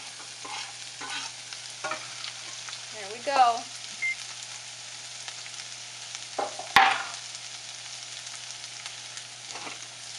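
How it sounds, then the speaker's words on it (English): Chopped garlic and vegetables sizzle gently in a hot sauté pan while being stirred, a soft steady frying hiss with a few utensil clinks and a sharp knock near the middle, and a voice speaks briefly. "You know it's ready when you hear that sizzle."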